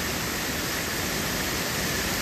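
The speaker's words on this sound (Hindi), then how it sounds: "वहां से आ रहे वाटरफॉल" Waterfall beside the mountain road to Bruni in Arunachal Pradesh, a steady broadband rush of falling water filling the whole stretch, close and fairly loud with no voices.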